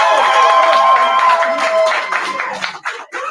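Crowd at a 2021 graduation ceremony in Atlanta claps and cheers loudly, with a sustained shout and whoops over dense hand-clapping, then the noise breaks into scattered claps and fades.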